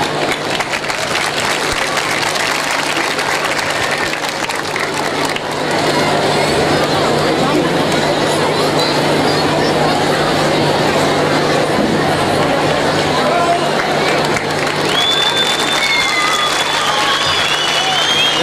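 An audience applauds at a concert ceremony as a plaque is presented to the district governor and the mayor, loud sustained clapping from a large crowd, swelling midway, with a voice and some chatter underneath.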